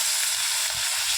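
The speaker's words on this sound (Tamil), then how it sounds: "இப்போ கொஞ்சம் தண்ணி ஊற்றிக்கிறேங்க." Steady loud sizzle and hiss of a hot pan as water goes into vada curry masala, continuous and close with no talking.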